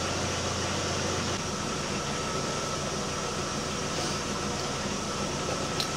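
A Ford Escape engine idling with an idle fault, a steady broadband mechanical hum with a low drone, constant in level and heard alone without talk.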